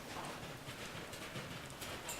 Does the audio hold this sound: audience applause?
no